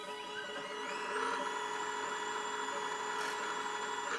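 A CNC guitar pickup winder spins up to 1200 RPM and settles into a steady high-pitched motor whine with layered harmonic tones, running continuously at a modest level with no voices.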